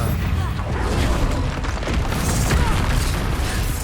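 An Expulso blasting spell in the wizarding game Hogwarts Legacy erupts in a dense, sustained roar of booming, crackling explosion noise, loud and continuous, mixed with voices and combat sounds.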